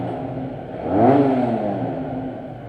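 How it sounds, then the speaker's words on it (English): A Benelli 302R motorcycle's exhaust note swells briefly inside a tunnel, a rising engine sweep that peaks and eases off against steady reverberant rumble. "this tunnel is perfect to listen to the exhaust note"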